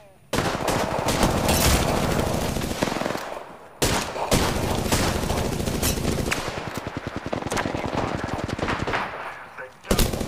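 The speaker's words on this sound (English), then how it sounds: "Opening fire." Video game gunfire from a prowler: dense, loud, sustained bursts of rapid automatic fire, briefly pausing once before resuming and running almost continuously.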